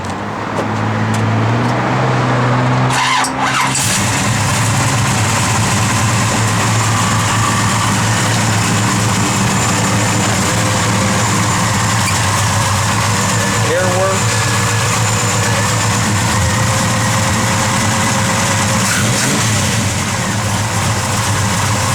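A 1970 Chevrolet Chevelle SS engine turns over and catches, then settles into a steady low idle that runs on, loud and close.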